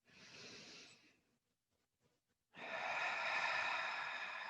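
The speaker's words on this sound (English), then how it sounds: "Breathing in through the nose." Two long, soft breaths drawn in through the nose during a seated relaxation exercise, close and airy, separated by a brief pause with no talking.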